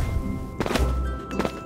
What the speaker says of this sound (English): Also swinging sword.